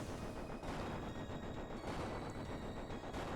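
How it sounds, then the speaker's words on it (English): A booming explosion inside the Tombs of Amascut raid in Old School RuneScape, heard as dense, loud, continuous blasts and rumbling game effects that fill the whole stretch without pause. "So when you hear the explosion"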